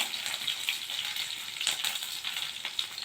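Garlic and dried red chilies sizzle steadily in hot oil for tamarind rice, a dense crackling hiss with small pops and no voices.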